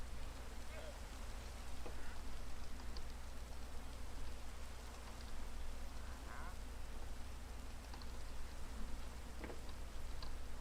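Rain falling in the Minecraft video game, a steady even hiss filling the whole clip at low volume, with a few faint croaking or quacking sounds scattered through it.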